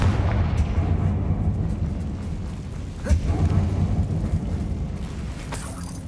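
A Confringo fire spell blasting in Hogwarts Legacy inside a closed mine, a loud deep rumbling boom with a sharp crack about midway, under a continuous low roar.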